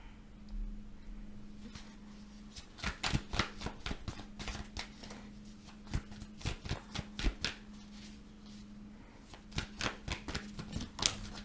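A deck of tarot cards is shuffled close by in several quick riffling bursts separated by short pauses, crisp and alone over a low steady hum in the room.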